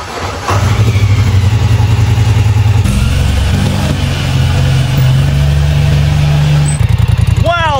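A 2023 Polaris Sportsman 1000 XP ATV, a wrecked machine being rebuilt, runs with a loud, close, steady engine drone that shifts pitch partway through, then a brief sputter and a rising whine at the end.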